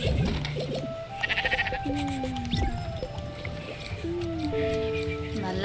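Sheep bleating in the video game Spiritfarer: several wavering bleats, fairly close, over steady game music and ambience.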